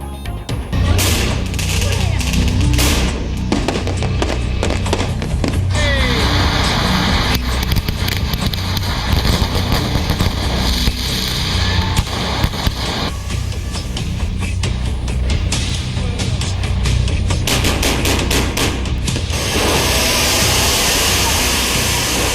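Chinese-made firecrackers exploding during Diwali, a loud, dense barrage of rapid crackling bursts that runs almost without pause, layered over heavy background noise.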